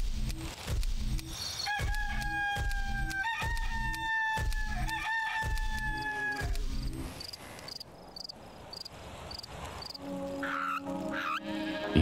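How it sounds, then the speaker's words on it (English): A rooster in the god game Black & White 2 crows several times in repeated rising calls over a steady bed of insect chirps and clucking, then quieter calls trail off into chirping ambience. "Roosters always crow when the sun comes up."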